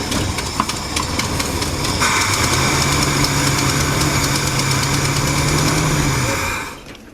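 A 1976 Mercury Marquis engine idles steadily and close by, a continuous rumble with a low droning hum that holds for several seconds and then drops off near the end; no one speaks.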